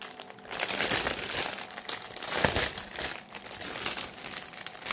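Paper crinkles and rustles steadily throughout as an unboxing package is handled up close, with soft crunchy bursts and no voices.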